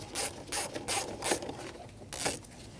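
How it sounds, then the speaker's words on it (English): A T15 bit backs out screws from the intake boot of a 2012-2022 Volkswagen Passat 2.5L, giving five short, close bursts of ratcheting clicks with brief pauses between them and no talking. "Using a T15 bit, remove the 2 screws on either side of the intake boot."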